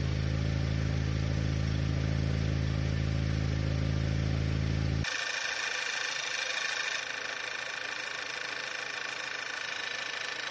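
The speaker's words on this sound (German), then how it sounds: "Jetzt hört euch mal den Auspuff an" A Skoda Octavia with a rough-running engine idles with a steady exhaust drone, heard close; partway through the tone shifts abruptly to a thinner, hissier engine-bay sound with a constant mechanical clatter.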